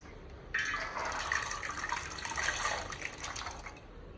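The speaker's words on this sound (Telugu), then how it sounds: "ఒక బౌల్ తీసుకొని దీంట్లో ఒక ఫోర్ గ్లాసెస్ ఆఫ్ వాటర్ అయితే వేసుకున్నాను" Water splashes and gurgles steadily into a bowl for a few seconds, a close, continuous pouring sound with no voices.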